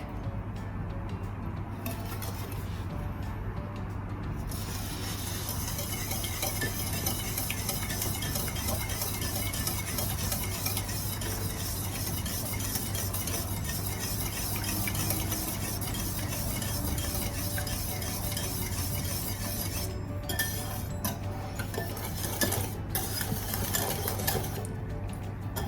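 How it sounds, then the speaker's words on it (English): Cake batter is whisked by hand in a bowl, a steady busy scraping and clinking of the whisk against the bowl running throughout, close up and fairly even, with a low constant hum underneath. "So I'm just going to whisk these together"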